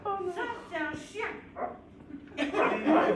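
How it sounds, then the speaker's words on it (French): A dog barks in a few sharp yips and woofs close by during a theatre troupe performance, with people talking around and between the barks. "Ah, ce bruit. Ça, c'est un chien."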